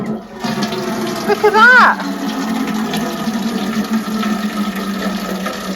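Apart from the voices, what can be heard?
water running from an outdoor tap into a water butt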